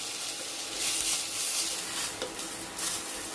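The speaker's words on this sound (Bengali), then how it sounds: "মেথি শাকগুলোকে অল্প করে ভেজে নেবো" Fenugreek leaves frying in a pan, a continuous nearby sizzle with occasional light stirring scrapes, no voices.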